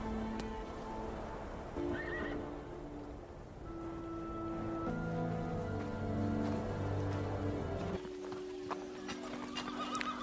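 A horse neighs and whinnies in long wavering calls over about ten seconds, with hoof clip-clop and soft outdoor ambience in the background, heard at moderate distance with no speech.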